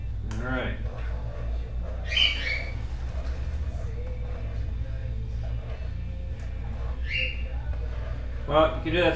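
A pet cockatiel squeaks and chirps in the background in short bursts, a few sharp calls spread across the stretch, behind a steady low hum in a home kitchen.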